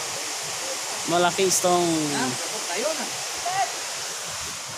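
Basag Falls pours in a constant, broad rushing roar of falling water, while people talk briefly over it nearby.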